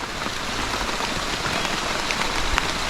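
Steady rain pours down on a farm with a fish pond, a dense and continuous hiss of drops on surfaces with a few sharper drip ticks, loud and even throughout, with no voices.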